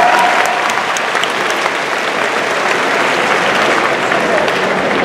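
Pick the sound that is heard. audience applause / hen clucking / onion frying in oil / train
audience applause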